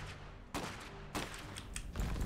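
Booming bursts of cannon fire and explosions in the video game Iron Harvest, three heavy blasts spaced about half a second apart, with rumbling in between.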